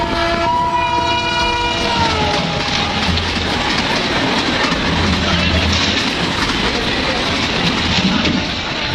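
A passenger train pulls into a busy railway station at Buxar, India, arriving from Pune; a loud, sustained horn blast opens over the heavy rumble and rattle of the moving carriages, close and continuous throughout.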